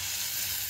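Steady broadband sizzle of sara pitha batter cooking on a lightly oiled pan, a continuous close hiss with no voices.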